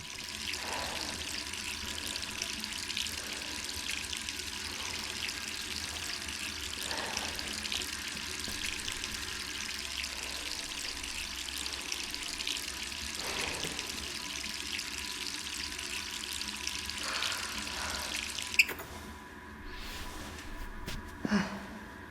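Steady running water from a tap left on in a Resident Evil 3 Remake scene, a continuous even rush that carries on throughout with a few faint knocks and a brief break near the end.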